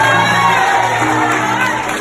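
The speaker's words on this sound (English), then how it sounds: "give another round of applause" Crowd at a talk cheering, whooping and clapping for a speaker, a dense, loud and steady roar of voices and applause that runs from start to finish without a break.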